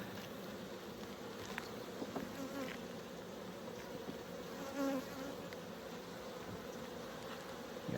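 Honey bees swarming and buzzing around an opened hive as the frames are disturbed, a dense, continuous close-up drone of many wings with small rises in intensity.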